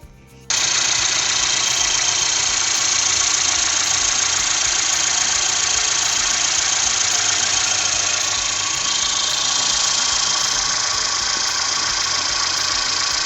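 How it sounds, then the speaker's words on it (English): A 2016 Mercedes GLC 300 engine turns over and starts after an oil change, then settles into a loud, steady running idle that continues without pause. "Now you need to start the engine"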